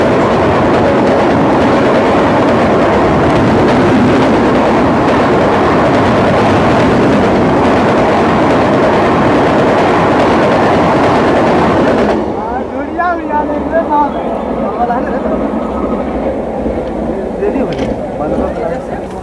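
IRCTC Tejas Express 82501, Lucknow to New Delhi, passes in the opposite direction beside a moving train. It makes a loud, close, rushing rumble with rail clatter for about twelve seconds, then cuts abruptly to quieter running noise.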